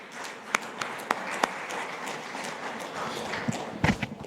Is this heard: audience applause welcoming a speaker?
yes